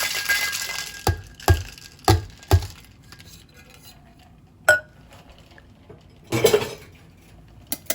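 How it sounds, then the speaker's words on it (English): A metal cocktail shaker tin with ice clanks and rattles as a drink is mixed, several sharp metallic knocks followed by a quieter stretch and a few scattered clinks. "Grab the other half of my shaker tin, some ice. And we just want to mix that up a little bit."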